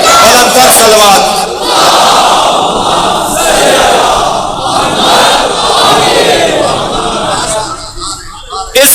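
Large religious gathering chanting salawat in unison during a sermon, a loud sustained roar of many voices that swells and eases over several seconds.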